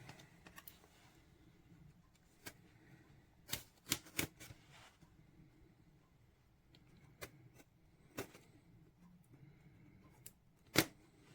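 Packaging around a JLab GO Charge wireless mouse being cut open, a few sharp snips and crinkles in bursts separated by quiet pauses, close and fairly faint.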